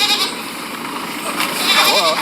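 A goat gives a short, wavering bleat close by near the end, over a background of steady outdoor noise.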